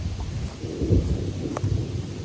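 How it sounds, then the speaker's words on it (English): A low, rumbling roll of thunder during a thunderstorm swells and fades, with a faint crackle partway through. "the thunderclap, as it would be called"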